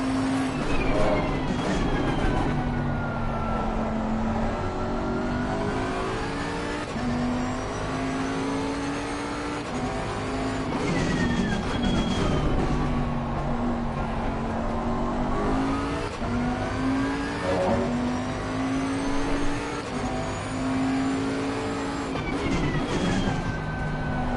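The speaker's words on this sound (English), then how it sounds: "this car just sounds so good though" A race car engine in Assetto Corsa Competizione roars continuously at Barcelona, its pitch repeatedly climbing and dropping with gear changes, loud and close with no talking.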